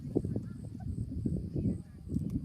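A turkey gobbles in short, rattling bursts, fairly faint and repeated several times over a soft background, with no clear talk.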